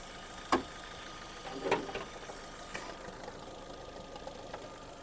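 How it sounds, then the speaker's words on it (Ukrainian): An Opel Zafira 1.8 petrol engine idles steadily at low volume, with a few sharp clicks and knocks over the constant hum. "Двигун працює чітко."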